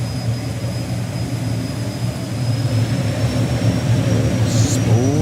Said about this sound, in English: Spools that turbine up.